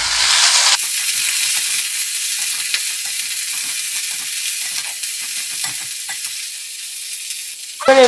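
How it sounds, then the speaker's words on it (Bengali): Helencha greens hiss and sizzle steadily in hot oil alongside lata fish curry, with intermittent scraping and stirring clatter from a spatula throughout, fairly loud and close, no voices. "শাকটাও দিয়ে দিলাম এর মধ্যে। এবার একটু নাড়াচাড়া করে নেব।"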